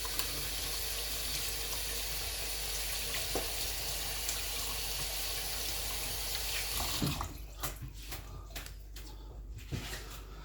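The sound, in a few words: washing hands under running tap water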